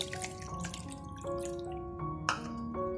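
Water drips and trickles off fresh chhena being squeezed by hand for milk-powder rasgulla, a quiet run of small irregular drips near the microphone.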